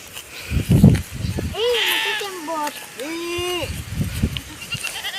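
Goats on a hacienda in Romblon give two drawn-out, wavering bleats close by, with people talking and laughing around them.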